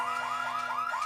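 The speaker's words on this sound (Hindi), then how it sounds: "देखो अलार्म बज रहा है।" A car alarm in a Hindi-dubbed Kid vs Kat cartoon wails in a rapid rising sweep, repeating about five times in just over a second, steady and fairly loud with no talk over it.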